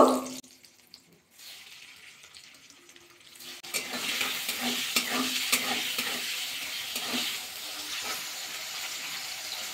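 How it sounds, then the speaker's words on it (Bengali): Oil sizzles and crackles steadily as egg whites fry in a pan, with intermittent scraping and stirring sounds; the frying grows louder after a quieter opening. "এই তেলের মধ্যে ডিমগুলো ভাজা করে নেব।"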